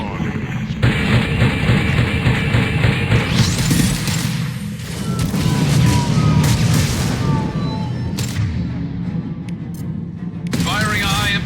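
Gunfire and heavy high-impact shots in the video game Mass Effect 2, a string of loud booms and cracking bursts with thumping impacts and rapid volleys, voices calling out among the shots.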